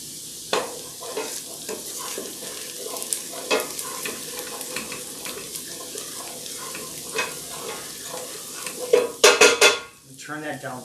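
Onions fry and sizzle in a pan while a utensil stirs and scrapes, with metal clinks and a burst of clattering near the end, close up and without speech.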